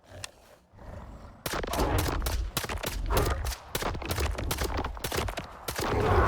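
Grom S-14 rifle fire in the video game STALKER 2, a close, loud, rapid automatic burst of shots that runs almost continuously after a short quiet opening.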